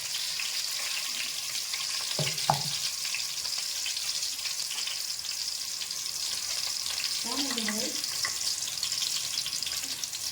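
Onions sizzle steadily in hot oil in a pan while cooking village-style cucumber dal stew, a constant bright frying hiss with a couple of clinks of a utensil partway through.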